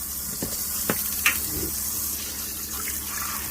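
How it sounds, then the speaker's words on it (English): Pressurized water rushes from a van's plumbing system in a steady, full hiss that never lets up, broken only by a few faint knocks and clicks nearby. "So there's my water system. Oh man, I'm loving that pressure."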